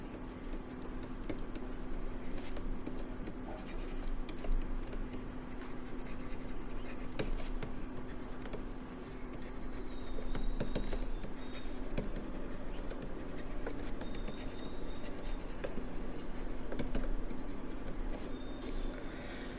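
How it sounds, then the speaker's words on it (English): Pen or chalk writing an equation by hand, a quiet continuous scratchy scribble of short strokes and taps with a low steady hum underneath and no talking. "let's first write down the time dependent Schrödinger equation"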